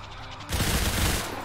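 Gunfire in XCOM 2 cuts in abruptly as a loud, dense burst of rapid automatic shots aimed at a sectoid alien, roaring for about a second before tapering off.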